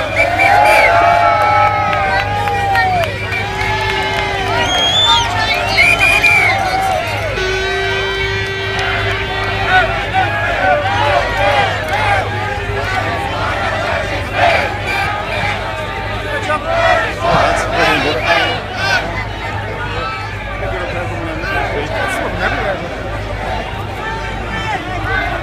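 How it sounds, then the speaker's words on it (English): A large outdoor crowd at a Right2Water protest march in Dublin cheers, shouts and whoops, with overlapping voices and chanting building and swelling loudly throughout, close and continuous. "let's hear the crowd build up the atmosphere"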